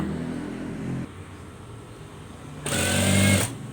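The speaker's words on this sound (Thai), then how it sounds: "เวลาที่เราเย็บตะเข็บด้านข้างตรงนี้นะคะ" A sewing machine stitches the side seam of a pair of jeans, first a low hum, then a short quiet gap, then a louder burst of fast running near the end, with no voices.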